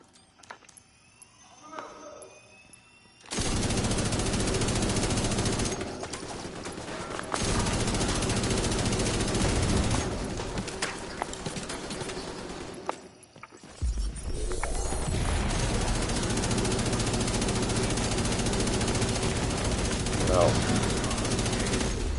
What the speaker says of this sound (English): Just wanted to test that gun out